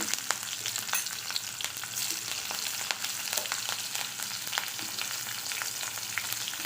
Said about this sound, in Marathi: आता हिरव्या मिरच्या फोडणीला घालत आहे